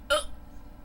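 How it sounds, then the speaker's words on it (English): A single sharp hiccup from a person trying to fall asleep, one short near burst followed by quiet room tone. "hiccups."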